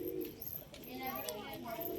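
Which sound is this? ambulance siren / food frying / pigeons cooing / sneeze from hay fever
pigeons cooing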